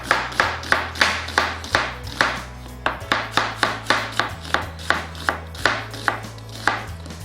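A knife chops onions for French onion soup on a cutting board, a brisk run of sharp, evenly spaced thuds heard close and alone, about two to three strikes per second.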